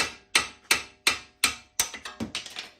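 Sharp metallic hammer blows on a chisel driving out a control arm on a B7 Audi A4: about five evenly spaced strikes, then a quicker run of lighter taps, close and loud with no talk.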